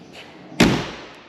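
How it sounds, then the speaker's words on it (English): Someone shuts the door of a 1967 Land Rover Series IIA with a single solid, close slam and a dull thud that fades quickly, with quiet surroundings before and after. "Door closes perfect."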